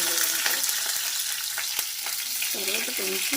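Steady, bright sizzling of onion pieces frying close by in hot tempering oil with fenugreek and cumin seeds, with a few stirring clicks and short tonal sounds near the end.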